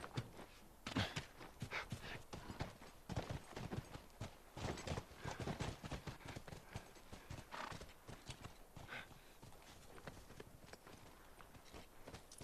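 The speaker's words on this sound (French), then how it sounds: "Come on, back to the horses." Horse hooves clip-clopping in the video game The Last of Us: a steady, continuous run of rhythmic hoofbeats, fairly faint, with occasional snorts and no talk over it.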